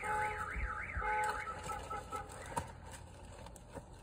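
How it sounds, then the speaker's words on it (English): A car alarm wails in a rising and falling siren pattern, moderately loud, over a noisy background with a few thumps, heard from inside or beside a car on a hot day. "Fire alarms going off."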